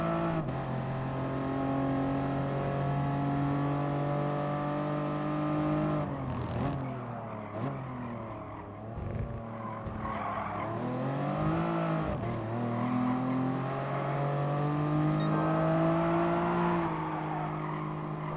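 Safety car engine in Gran Turismo Sport revving steadily with sustained harmonic drone, dipping and rising in pitch through several throttle changes over about eighteen seconds, loud and close with no talking.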